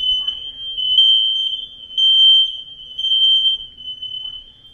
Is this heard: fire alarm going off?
yes